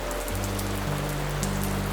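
Steady rain falling on a surface, a constant dense hiss of drops, close and uniform throughout, with a low background hum and no voices.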